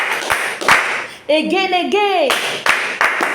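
A few sharp hand claps ring out during a language lesson, spaced out between a voice speaking and intoning phrases.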